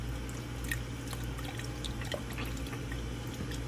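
Bottled lime juice pours into a pot of broth as a steady, soft liquid wash with a few faint drips, heard close and alone over low kitchen hum.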